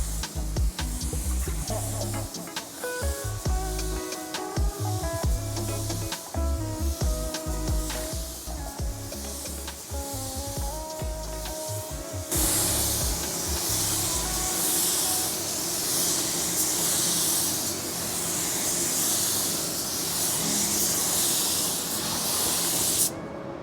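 A paint sprayer lays down a first coat with a loud, continuous hiss. Other tonal sounds and low knocks run beneath it early on, and the spray alone fills the second half.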